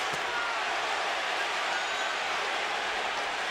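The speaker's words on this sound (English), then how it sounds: "Crowd begins to chant, Gatti, Gatti, Gatti." A large boxing arena crowd at the Gatti vs Ward fight roars and chants steadily in a dense, unbroken wash of noise with no clear pauses.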